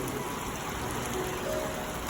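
Steady rain hisses down on the Appalachian Trail in the Smokies in a dense, even wash of noise with no pauses, fairly close and continuous throughout.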